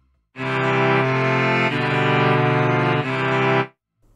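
A sustained sequence of chords played loudly, shifting through a few changes and resolving to a final chord before stopping abruptly.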